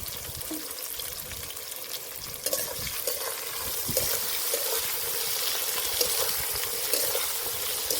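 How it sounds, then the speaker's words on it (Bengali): Chopped onion and tomato frying together in a pan, a continuous close sizzle with stirring scrapes that grows slightly louder partway through. "পেঁয়াজ আর টমেটো একসাথে ভেজে নেবো"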